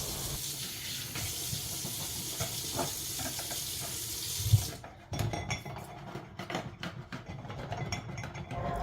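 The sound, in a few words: washing a glass rack in the sink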